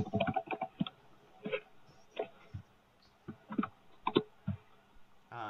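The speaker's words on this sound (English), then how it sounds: "Whoever's using a mechanical keyboard, please stop." Typing on a mechanical keyboard during a podcast recording, heard as scattered, close clicky keystrokes in short irregular bursts, fairly quiet with no talking.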